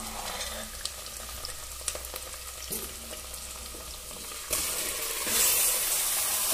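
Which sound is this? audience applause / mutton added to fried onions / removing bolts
mutton added to fried onions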